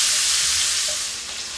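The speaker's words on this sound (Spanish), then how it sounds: "Vamos a ponerle las cebollas, para que cojan un poquito de color y se vayan friendo un poquito." Onions fry in a pan, giving a steady, loud, close sizzle that holds evenly and eases slightly toward the end, with no voices.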